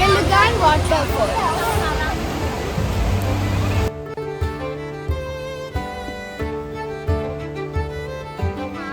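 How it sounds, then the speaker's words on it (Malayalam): Rushing water at Tegenungan waterfall in Bali, a dense broadband roar for the first four seconds with voices over it. The sound then cuts away to quieter tonal sounds and speech. "തെക്കലുഗാൻ വാട്ടർഫോൾ."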